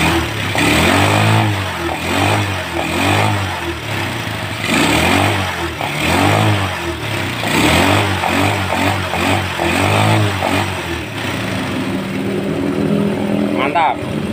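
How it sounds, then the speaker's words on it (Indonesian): A motorcycle running again after repair of a lost AC ignition, its engine idling and revving in steady repeated pulses at close range, with people talking over it in a workshop. "Ini motor sudah hidup ya."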